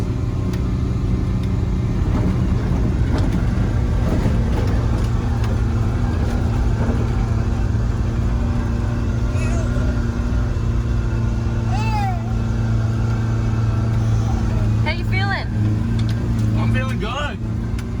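Four-wheel drive car in low range crawling up a steep hill in first gear, a loud steady engine drone throughout with people talking over it.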